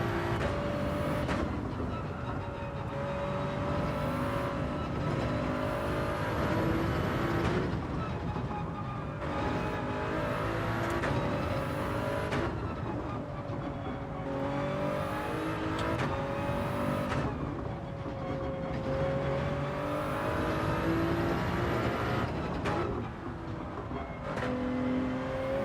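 A race car engine in Gran Turismo 7 drones steadily throughout, its pitch rising and falling with throttle and gear changes, loud and close with no talking.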